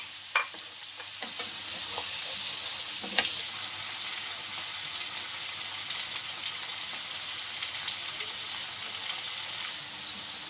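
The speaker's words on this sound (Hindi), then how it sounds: "अब इसमें मैं ये लहसुन अदरक का पेस्ट और ये आलू डालकर इनको साथ में दोनों का फ्राई करूँगी।" Potatoes and garlic-ginger paste frying together in a pan give a steady close sizzle, with scattered spoon clicks and scraping from stirring throughout and no talking.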